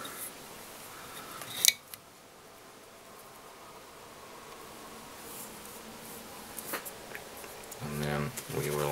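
Scissors give a sharp close snip while trimming hackle on a Dunsmuir Highlander Templedog salmon fly, followed by soft handling rustles and a few faint clicks in a quiet room.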